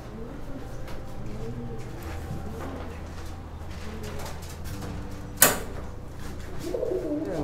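Racing pigeons coo softly in a loft in Coimbatore, low repeated calls over a steady background hum, with one sharp knock partway through and quiet talk nearby.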